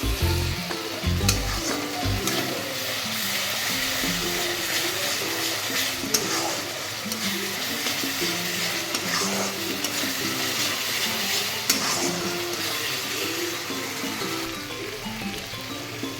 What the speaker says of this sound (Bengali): আলুগুলো দিয়ে দিলাম এবার একটু কষিয়ে নিই